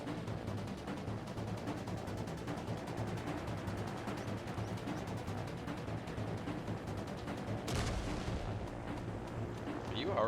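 Helicopter weapons firing in an evolution-style video game, a steady, dense rattle of distant booms and gunfire running throughout, with one sharper burst near the end.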